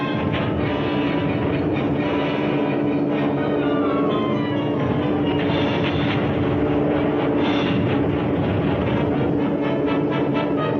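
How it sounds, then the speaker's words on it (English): Heavy bomber aircraft drone continuously overhead during an air raid on Cherbourg, a thick, steady roar that stays loud and unbroken for the whole stretch, with no talking. "Behind the Germans, Cherbourg is being battered by heavy bombers."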